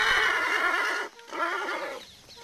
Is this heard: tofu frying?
no